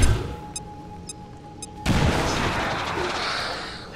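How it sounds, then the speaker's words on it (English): A frag grenade detonating in the sci-fi strategy game XCOM 2: a few faint game blips, then one sudden heavy blast followed by a long rumbling, crackling decay. "And you're gonna launch the frag grenade anyways"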